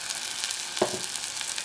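Tomato puree sautéing in a kadhai, giving a steady close sizzle and frying hiss while it is stirred, with one brief scrape or clink partway through and no voices.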